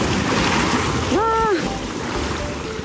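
Sea waves at Oura beach on Tsushima, a constant breezy wash of surf with wind buffeting the microphone, and a short high vocal exclamation cutting through midway.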